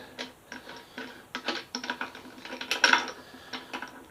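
A ratchet tightens the bolt of a rear spool on a Ninja ZX636 motorcycle, giving close, distinct clicking strokes in a steady rhythm, about a dozen in a row, with no talking.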